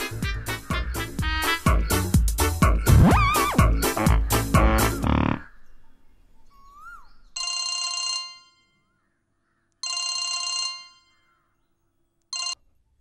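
A telephone rings in three electronic ringtone bursts, the last one cut short, following a loud stretch of music, with silence between the rings.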